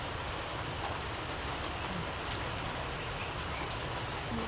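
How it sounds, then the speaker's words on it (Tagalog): Steady, heavy rain pours down in a dense, unbroken hiss during sunshine, with no voices over it. "Grabe ang ulan, mga Mars. Ayan. Ang lakas ng ulan."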